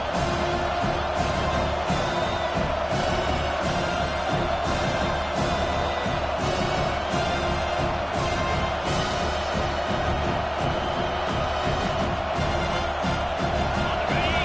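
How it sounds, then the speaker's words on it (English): Home football crowd roaring on a third-down defensive stand, a dense sustained wall of cheering and whooping from a packed stadium, loud and continuous with no break. "These fans are going absolutely nuts."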